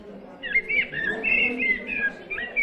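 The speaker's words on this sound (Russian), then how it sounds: "Вот так звучит дрозд." Recorded song thrush song played back through a speaker in an interactive bird exhibit at a natural history museum, a run of clear, varied whistled phrases repeated in quick succession, fairly close and steady, with a faint background murmur.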